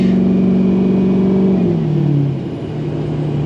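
A tuned 6.0-liter truck engine revs hard and loud up close, its steady roar shifting downward in pitch as the throttle eases, with no voices over it.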